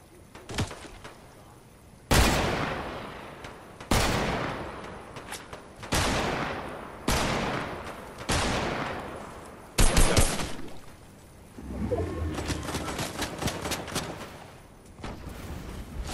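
Gunfire in the Fortnite video game: a series of loud, close single shots spaced about two seconds apart, followed by a denser burst of rapid fire and a final sharp shot.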